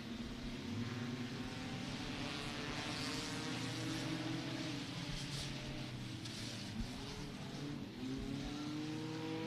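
Enduro stock cars race around Beckley Motor Speedway at night, a continuous layered engine roar with rising and falling revs as several cars pass, heard from the grandstand at a moderate distance.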